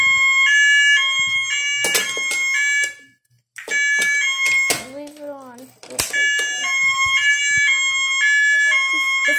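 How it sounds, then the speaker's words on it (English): A loud fire alarm blares in repeating electronic tones, steady and close, with a brief drop-out and a voice squeaking in between. "Fire alarm."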